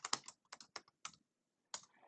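Keys clack sharply on a computer keyboard as a short command is typed, a few crisp close taps in two quick clusters with near silence between them.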